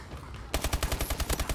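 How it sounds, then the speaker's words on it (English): A submachine gun fires in a video game, one rapid, evenly spaced burst of about ten loud, punchy shots that begins abruptly after a short stretch of quieter background. "That's what happens when you pick up a submachine gun after using an AR for so long."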